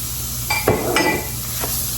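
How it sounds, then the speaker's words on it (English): Shredded carrots shifted around a hot pan, giving a soft steady sizzle with a few scraping stirs and light clinks of a utensil against the pan. "We're going to move our carrots around here and cook these for just a little bit"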